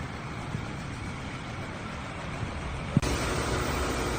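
A Volkswagen Tiguan engine runs steadily after its oil pan has been cleaned, refitted and refilled with about 4.5 litres of oil, a low continuous idle with a brief knock near the end and no voices.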